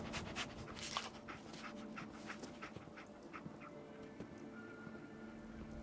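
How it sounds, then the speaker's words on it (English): Dogmeat, the dog companion in Fallout 4, panting in quick rhythmic breaths close up, with a few faint whimpers and game background sounds, no talk. "Dog meat. Get the scent, boy."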